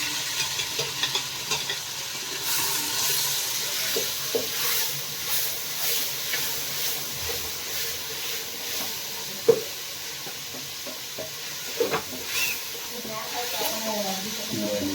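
Mixed vegetables for pulao, including field beans, ivy gourd and capsicum, sizzle and hiss in a hot pan while a spoon stirs them, with continuous frying noise, occasional scraping clanks and a voice talking over it.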